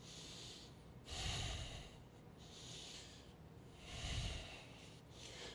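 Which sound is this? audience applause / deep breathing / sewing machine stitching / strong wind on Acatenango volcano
deep breathing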